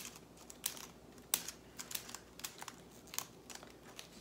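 Scissors snipping crepe paper into a fringe for a craft pomegranate made from an old Christmas bulb, a run of quiet crisp cuts and rustles at irregular intervals, close and soft with no talk.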